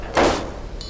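A cabinet door opened in the 2013 Tomb Raider game gives a single short, fairly loud swish-thud that fades into quiet room tone, with a faint higher tone entering near the end.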